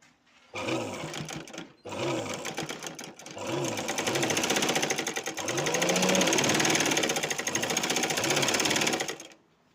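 A sewing machine runs a second line of stitching, its loud, steady mechanical whir starting, pausing briefly, then running continuously to the end.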